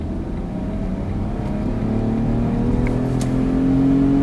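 A 2012 Smart Fortwo coupe Passion mhd Softouch accelerating hard with the foot held down, its engine note steadily rising and growing louder over several seconds from inside the cabin.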